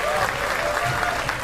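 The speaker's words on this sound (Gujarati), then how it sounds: "મુકા માટે તાળીઓ." An audience at a Gujarati comedy show claps for a dancer named Muka in a dense, steady round of applause that holds close and loud throughout.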